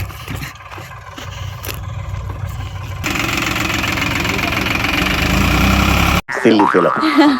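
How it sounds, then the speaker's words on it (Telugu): A tractor engine chugs and knocks on a tobacco farm, growing louder and rougher after a few seconds, with a brief cut and a voice near the end. "ట్రాక్టర్ తోలుతాడండి ఇప్పుడు వీడు"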